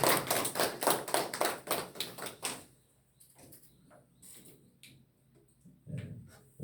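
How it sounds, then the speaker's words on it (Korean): A church congregation claps together in a dense, rhythmic burst for a few seconds, then thins to a few scattered, fainter claps in a quiet room. "모두를 위해서 한번 박수 한번 쳐주세요."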